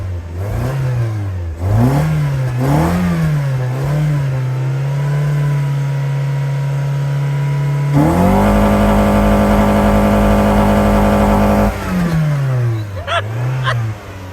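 A car engine, treated with high-mileage Seafoam for a misfire, idles and is blipped in repeated revs. It then holds a long, loud high-rev drone before dropping back to idle with a few more quick revs, close and unaccompanied by speech.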